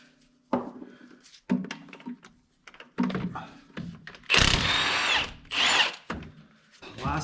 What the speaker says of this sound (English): so I can use my swivel impact